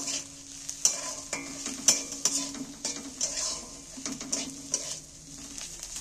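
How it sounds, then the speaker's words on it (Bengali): Crushed garlic and onion frying in oil as they are stirred, a soft continuous sizzle broken by repeated scraping and clinking of a spatula against the pan. "রসুনগুলো পেঁয়াজের সাথে দিয়ে আমি একটু নেড়ে চেড়ে নেব।"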